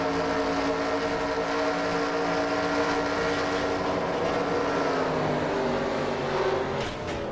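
An on-board race car engine in the NASCAR Racing 2003 video game drones steadily at high revs for several seconds, loud and continuous, with the engine starting to blow up.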